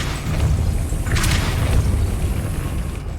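A Depulso spell blast in Hogwarts Legacy lands as a loud, sustained booming rumble with a bright burst partway through, alone without voices.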